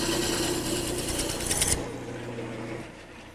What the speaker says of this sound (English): Now I want to turn it into a cylinder. To do that, I'm going to use this gouge.